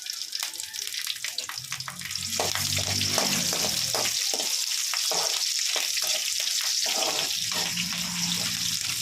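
Onions with dried red chillies and green chillies fry in a pan, a steady sizzling hiss with occasional stirring clinks, moderately quiet and continuous, with faint background sounds.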